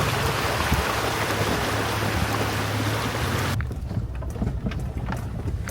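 Heavy rain pours down hard outdoors during an overland mountain trip, a dense loud hiss that drops to a softer patter partway through, with no voices.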